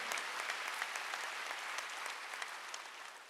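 A church congregation at a Wednesday worship service applauds in a steady, even patter of many hands, fairly faint and distant in a large hall, continuing for several seconds without a voice on top.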